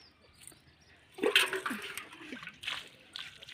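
Water poured by hand onto the soil around a young guava plant in a home garden, a splashing, gurgling pour starting midway and running steadily to the end at close range.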